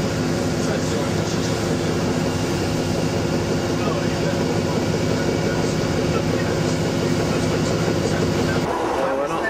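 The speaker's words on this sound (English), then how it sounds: "Well, here it is, our first train." Passenger train on the St Ives Bay line near St Erth, heard from on board as a loud, steady rumble of running wheels and engine drone with faint rail clatter, easing slightly at the end.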